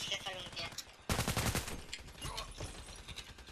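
Rapid automatic gunfire in the shooter game Contract Wars rattles out in a loud, dense burst, with scattered shots before and after.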